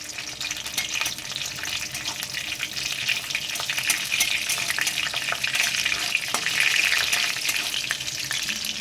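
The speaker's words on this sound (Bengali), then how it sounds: "এখানে আমি কাঁচা লঙ্কা দিলাম তেল ঝালেতে কাঁচা লঙ্কা দিলে ভালো টেস্ট হয় ওই জন্য আমি কাঁচা লঙ্কা দিয়ে দিলাম হালকা নাড়াচাড়া করে নিচ্ছি" Green chilies fry in hot mustard-oil seasoning for a fish curry, giving a continuous loud sizzle with faint scraping as they are lightly stirred around the pan.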